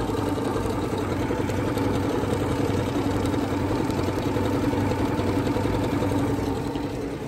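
A PFAFF Creative 1.5 sewing and embroidery machine runs a decorative heart stitch, giving a steady, continuous motor whir at close range with no talking.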